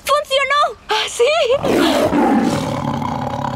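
A tiger roars loudly and close, a long rough growling blast that follows a burst of excited voices in a sitcom scene.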